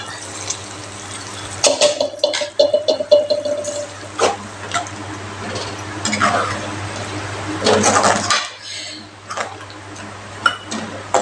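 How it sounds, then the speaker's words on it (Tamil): Water poured into a pot of drumstick curry, splashing and gurgling for several seconds amid clinks and taps, then quieter after the pour stops. "இப்போ குழம்பு எவ்வளோ திக்னஸ் வேணுமோ அந்த அளவுக்கு தண்ணி விட்டுக்கோங்க"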